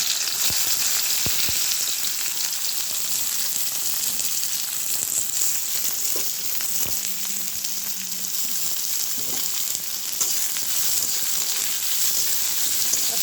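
Fish sizzles in oil with onion in a pan, a steady hissing fry throughout with a few sharp clicks and taps, nearby and fairly even, without speech.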